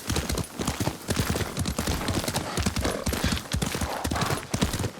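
Horse hooves from Ghost of Tsushima clatter in a fast, continuous galloping rhythm, loud and close, with game ambience around them.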